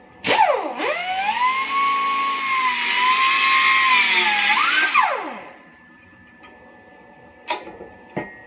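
A power cutting tool, likely an angle grinder, slices through round metal bar clamped in a vise, spinning up and holding a loud steady whine for about four seconds before winding down, followed by a couple of sharp metallic clanks.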